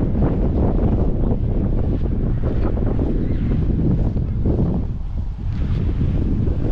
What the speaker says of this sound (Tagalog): Malakas ang hangin ngayon, pero malakas ang hangin at medyo mainit.